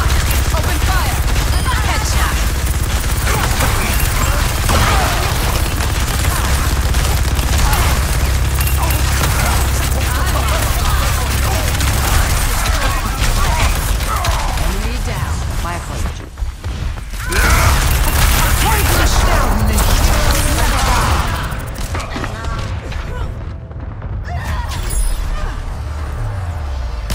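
Sustained automatic gunfire from Overwatch 2, loud and dense, rattling almost continuously with heavy booms mixed in and a brief drop near the middle, while voices talk over the shooting.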